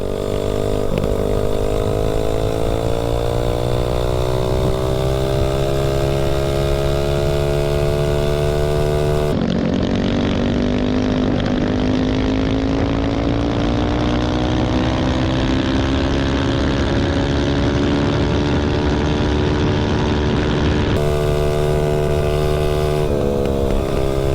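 A Tillotson 225-powered TACO 22 mini bike screams through its exhaust pipe at full throttle, loud and continuous, its engine note rising steadily with a shift partway through.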